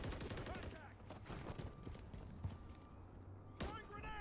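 Rapid bursts of gunfire in Modern Warfare 3 with an AMR9 in play, a dense crackling fusillade in the opening second, then scattered shots and another burst near the end, all mixed with game noise.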